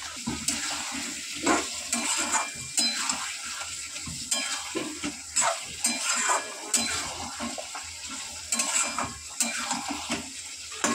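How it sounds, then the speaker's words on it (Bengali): Spices and green chilli paste with turmeric being sautéed in a pan, a steady sizzle under repeated scraping and clinking of a spatula against metal, fairly close and continuous. "ভালো করে কিন্তু কষাতে হবে, কষানোর ওপরেই কিন্তু এটা সেদ্ধ হবে"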